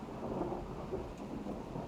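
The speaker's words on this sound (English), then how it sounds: "Rain drummed against the glass above." Steady rain drums against glass while low rumbles of thunder roll beneath it, a dense and continuous storm wash with no voices.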